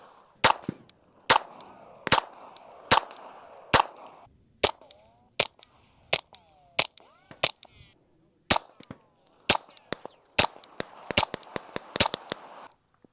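A series of sharp, sudden suppressed handgun shots cracks out at irregular intervals, some in quick pairs, each a short dry pop followed by quiet.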